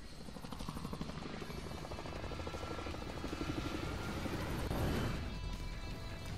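A plane engine in a video game drones steadily with a rhythmic propeller-like throb, growing slightly louder and rougher toward the end, with no one talking.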